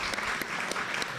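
Audience members at a pioneer stories dinner theater clap for their board president, a short burst of steady, fairly close applause from a modest crowd.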